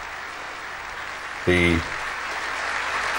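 A ceremony audience at the 1997 Hong Kong handover applauds the Chief Executive's speech, giving a steady wash of distant clapping. A brief voice cuts through in the middle.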